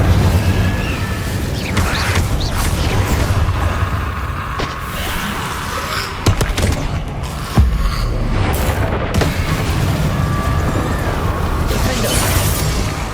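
Incendio fire spells blasting in Hogwarts Legacy combat against Inferi, dense loud whooshing bursts and booms stacked over continuous battle noise, with a couple of sharper impacts midway.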